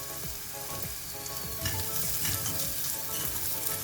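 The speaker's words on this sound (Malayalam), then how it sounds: "1 മിനിറ്റ് ഒന്ന് എല്ലാം കൂടി ഒന്ന് വഴറ്റിയെടുക്കാം." Spices, coriander powder, salt and masala sauté in a pan for okra stew, a dense close sizzle with repeated stirring scrapes that grows slightly louder partway through and has no speech.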